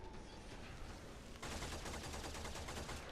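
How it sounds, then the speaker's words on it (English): Gunfire from shooting infested enemies with a slash-damage weapon in the video game Warframe: a steady, dense rattle of rapid shots that grows louder and busier partway through, with no talking. "Just a few shots with this slash damage will destroy them."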